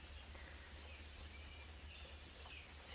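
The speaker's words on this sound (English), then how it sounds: "this beautiful cleansing rain is really going to help us do that today" Gentle rain falls in a soft, steady, even hiss with scattered droplet patter, quiet and continuous throughout, with faint bird chirps in the background.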